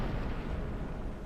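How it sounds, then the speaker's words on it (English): Rumbling thunder in a fantasy video game, a dense continuous low roar with no voices over it. "it starts to rumble with thunder. It's thunder, definitely not an explosion."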